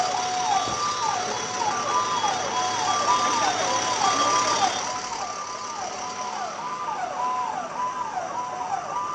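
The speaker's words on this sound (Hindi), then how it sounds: "एक के बाद एक सायरन की आवाज सुनिए।" Wailing emergency sirens, ambulance and police, rise and fall repeatedly over steady traffic rumble near the Red Fort in Delhi after a car blast, loud and continuous, with a second siren tone layered in the first half.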